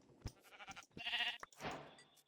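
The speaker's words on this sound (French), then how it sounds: "Oh, la chèvre..." Goat bleating in Minecraft, a couple of short nasal bleats close by with a few soft knocks around them, quiet and brief.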